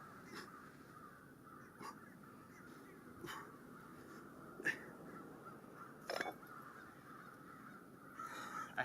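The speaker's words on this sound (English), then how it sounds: "Crows are getting louder and louder." Crows caw repeatedly at a distance, harsh calls spaced every second or two over a quiet, faintly rumbling outdoor background.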